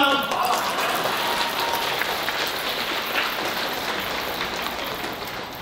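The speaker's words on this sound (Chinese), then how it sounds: "我们应该给自己一个鼓掌，好吗？" An audience at a US fundraising gathering for a Christian gospel ministry applauds, a steady, dense wash of clapping that holds evenly throughout and tapers slightly near the end.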